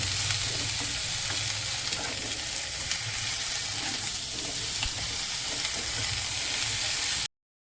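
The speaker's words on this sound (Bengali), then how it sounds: "আমি ঝুড়ি ধরে ফুলকপিও ঢেলে দিলাম, এটাও ভেজে ভেজে নেব" Cauliflower pieces frying in oil, a loud continuous hissing sizzle with faint low rumbling underneath, close by, cutting off abruptly at the end.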